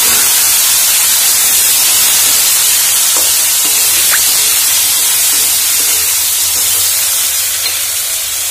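Fish frying in a pan on a home kitchen stove gives a loud, steady, close sizzling hiss that continues unbroken throughout, with no voices.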